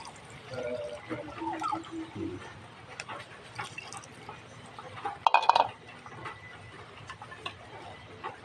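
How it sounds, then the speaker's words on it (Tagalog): Water is poured into a cooking pot of pansit bam-i noodles in a home kitchen, a brief splashing burst amid quiet clinks and faint background sounds. "Lagyan natin tayo tubig."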